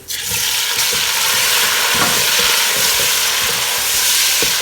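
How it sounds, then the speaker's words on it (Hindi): Beef for an Afghani Kabuli pulao hits a hot pan and fries with a loud, steady sizzle, with the scrape and clatter of a spoon stirring it throughout, no voices. "अब आप इसमें ऐड करेंगे अपना बीफ"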